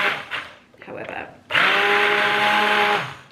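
A kitchen blender whirs loudly and steadily for about a second and a half while blitzing pumpkin soup, after brief spoken remarks, then cuts off.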